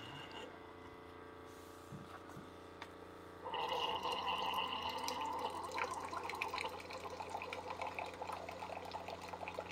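A Keurig-style single-serve machine brewing coffee from a K-Cup: a soft low hum at first, then after a few seconds a louder gurgling, hissing stream of liquid that pours steadily into the cup at close range.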